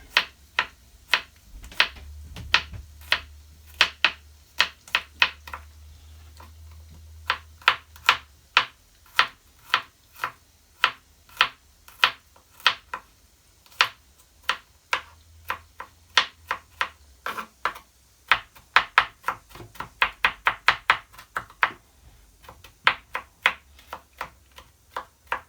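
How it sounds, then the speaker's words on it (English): A knife slices garlic cloves thinly on a cutting board, making a quick, irregular series of close, crisp taps, sometimes in rapid bursts, with a faint low hum early on. "And then I'm gonna slice them sideways like that, so you get extra"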